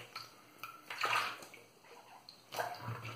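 Water running and splashing as a badger shaving brush handle is rinsed off, a brief close rinse with a couple of stronger gushes, no talk.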